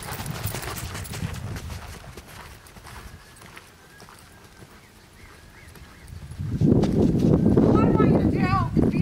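A horse canters in a riding lesson, its hoofbeats thudding rhythmically under a trainer's voice and growing louder and closer toward the end.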